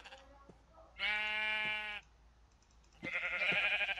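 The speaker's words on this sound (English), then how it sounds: "I've got the sheep right here." Minecraft sheep bleat twice in a quiet game scene, each call about a second long and clear, with a short pause between them.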